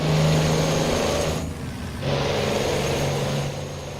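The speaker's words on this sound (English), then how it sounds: "That turbo sounds pretty legit on the front of that truck." A video game heavy-haul truck engine with a front-mounted turbo drones steadily with a high whine over it, cuts out briefly, then returns at full loudness and tapers slightly near the end.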